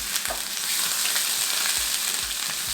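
Garlic and green chili, first crushed in a mortar and pestle, fry in a hot pan with a steady broadband sizzle, close and continuous, with a few soft stirring knocks underneath and no voices.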